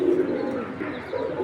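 A pair of white racer pigeons coos softly and continuously, a low steady burbling close by with no other sounds over it.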